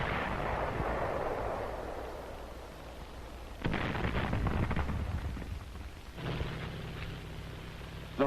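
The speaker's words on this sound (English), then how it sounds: "presenting direct fire from emplaced artillery weapons" Emplaced artillery firing in battle on Guam, two or three heavy booming blasts with rumbling decay over a constant noisy wartime soundtrack.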